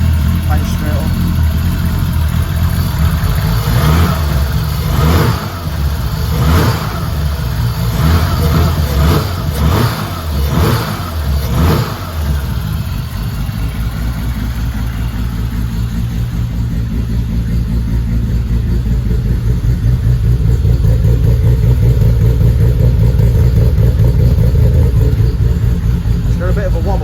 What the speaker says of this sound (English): It's got a bit of a rough idle for some reason.